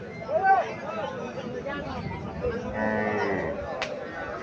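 A Sahiwal cross cow at a cattle market gives a loud, close moo near the start, followed by a longer low lowing, with a crowd murmuring in the background.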